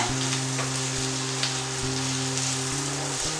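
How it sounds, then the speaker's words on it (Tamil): Beans sautéing in a pan over a medium flame give off a steady, close sizzle that stays even from start to finish, with a low electrical hum underneath and no voices. "இப்போ நல்லா வதக்கி விட்டுருங்க. மீடியம் ஃப்ளேமில் வச்சுக்கோங்க."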